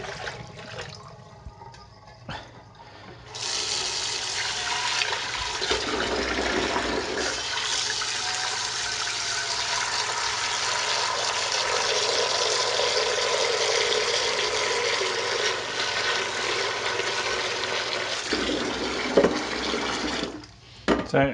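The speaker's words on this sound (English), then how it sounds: "So tip this water away because it's fairly salty" Salty water from a slow cooker of ham hock is tipped away down a sink, giving a loud, steady gush of running water that lasts about seventeen seconds before it stops abruptly.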